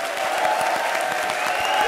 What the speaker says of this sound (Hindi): चलो सोहेल अंकल ताली ठोको।